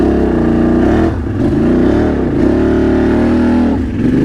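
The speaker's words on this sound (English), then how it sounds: "I buried the four-wheeler right here. Definitely going four-wheel drive." A four-wheeler ATV in four-wheel drive revs hard while crawling out of a deep backyard mud hole. The engine is loud, close and continuous, its pitch rising and falling with brief dips, and no voices are heard.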